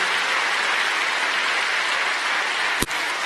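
A congregation claps in a church service, a steady wash of applause from many hands that continues evenly, broken near the end by a single sharp knock.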